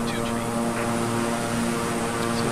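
Steady, loud propeller drone of a Beechcraft 350i King Air turboprop in Microsoft Flight Simulator, a constant cabin hum with a strong tonal whine and no break.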